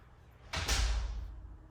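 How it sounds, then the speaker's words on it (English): A door in a home garage slides and thuds shut, one loud close with a broad whoosh and low bump that fades over about a second. "Well, close the door, it's cold out here."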